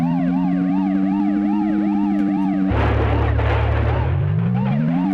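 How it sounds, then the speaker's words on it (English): Police siren in a video game wails loud and close in looping rising-and-falling sweeps, then shifts into a different, harsher wail over a low engine drone, with no voices. "Is that a police siren?"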